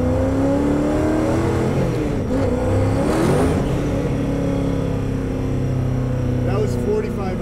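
A car costing over $600,000 revs hard as its tires break loose at 4,500 RPM around 70 mph, the engine roaring steadily and loud throughout with a voice talking over it.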